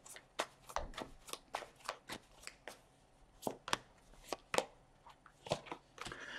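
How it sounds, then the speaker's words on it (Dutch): Tarot cards being shuffled by hand, close and fairly quiet, a series of crisp riffling bursts in an uneven rhythm with short pauses between them, without any talking. "Zal de kaarten schudden om te kijken wat deze week voor de stier gaat brengen."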